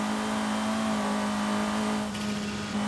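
A car engine in the Forza Horizon 5 racing game, an Abarth 124 Spider, drones at a steady pitch, then a sharp hissing turbo blow-off bursts out near the end.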